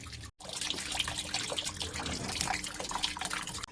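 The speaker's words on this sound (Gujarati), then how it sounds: "હવે આની અંદર જે વસ્તુ છે એ પાણી આખું જ ભરાશે" Water trickles and splashes steadily into the drum of a Realme Techlife 7 kg, 5-star washing machine as it fills, a continuous close-up liquid sound broken only by one very brief dropout near the start.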